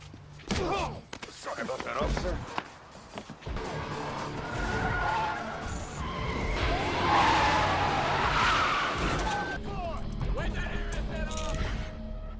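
Tires of a stolen police car skid loudly in an action film scene, with screeching, engine roar and a crash-like thud amid music and effects throughout.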